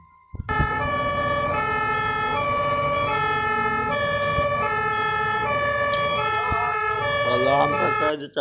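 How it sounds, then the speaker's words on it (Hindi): An ambulance siren wails on a highway, a loud, steady repeating tone pattern that holds for several seconds with traffic noise underneath. "जो ही उनके कान में उसके सायरन की आवाज आती है"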